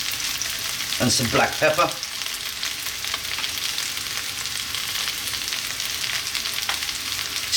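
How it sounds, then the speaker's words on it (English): Eggplant and tomato stir-frying in a pan, a steady close sizzle running through the whole stretch with a brief louder burst of stirring near the start, while a person speaks briefly over it. "Stir frying this around."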